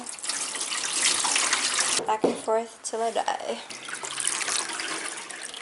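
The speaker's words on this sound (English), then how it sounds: "first order of business is to get this tank filled up with water" Tap water runs hard into a film developing tank with a bright, hissing splash, then pauses briefly while someone speaks before the steady flow resumes.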